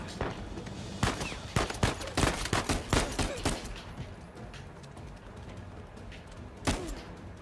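Gunfire in the Uncharted 4 video game: a burst of sharp shots clustered early, then scattered single reports and one late loud crack, with background game ambience.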